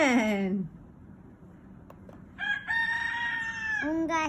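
Rooster crowing from an animal sounds memory game, a falling tail of one crow at the start, then a loud, sustained, harmonic crow in the second half, clear and close.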